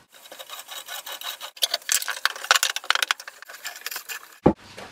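A hand saw cutting a wooden shelf for a homemade crossbow, close raspy strokes in an irregular rhythm that build in intensity, ending with a sharp knock.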